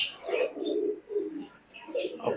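Teddy pigeons, a pair of pet birds, cooing softly in low rolling murmurs, with a few brief higher chirps in between; the calls come in short repeated bursts from close by.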